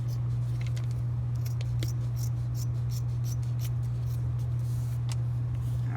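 Scissors snipping through doll fabric, a series of short crisp cuts in an irregular rhythm, close but fairly quiet over a constant low electrical hum, with no talk.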